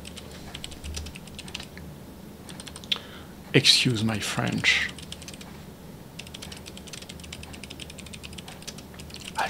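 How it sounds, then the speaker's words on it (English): Keys tapping on a replacement Atari XE computer keyboard in irregular clicks, interrupted by a brief louder mechanical rattle and a short spoken remark. "let's do a little typing test."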